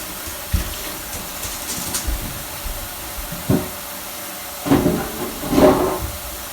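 A container is filled with water, with a faint, steady hiss of running water and several short, louder splashing surges toward the end, close by and without talk.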